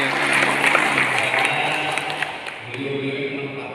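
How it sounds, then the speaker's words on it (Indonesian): Audience applause at a ceremony for planting 600 durian seedlings, crowd clapping running under ongoing talk and noise and fading slightly near the end. "kita berikan tepuk tangan"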